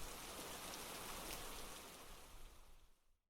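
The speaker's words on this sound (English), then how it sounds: "It began to rain." Steady rain pours down as a dense, even hiss of falling drops in an audio drama scene, then fades away to silence near the end.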